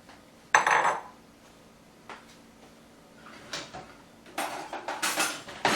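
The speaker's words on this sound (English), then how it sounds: "let's scrape with a spatula" A spatula scrapes out a container while a Jamaican mango vegetable salad with jalapeno and onion is made, giving short close clinks at first, then a run of rhythmic scraping strokes near the end.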